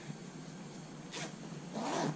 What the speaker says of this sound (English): Then open the zipper